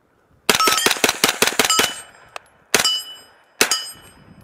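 A 9mm PCC rifle's metal muzzle brake struck hard several times, a quick series of bright ringing clangs followed by a few separate louder strikes, each leaving a short metallic ring.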